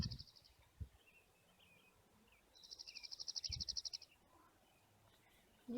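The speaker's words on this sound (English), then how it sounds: "And I hear lots of birds singing." Bursts of rapid, trilling chirps repeat at a distance over a quiet outdoor background, with a couple of soft thumps.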